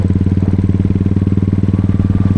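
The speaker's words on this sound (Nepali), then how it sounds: "बाइकको साउन्ड पनि फेरि उस्तै सुनिरहेको छ" A motorcycle engine runs up close while being ridden, pulsing in a steady, rapid rhythm that fills the short stretch with no talk.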